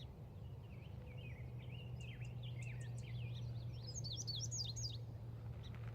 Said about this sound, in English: They're one of my favorite birds.